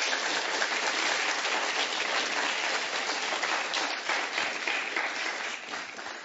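Dense, steady audience clapping at the 2007 Carl Sagan Prize for Science Popularization ceremony, a warm round of applause for the presenter lasting about six seconds with no talk, easing slightly at the end.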